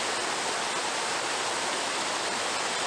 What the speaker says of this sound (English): The water's moving fastly. That's because wifey's over in the paddles.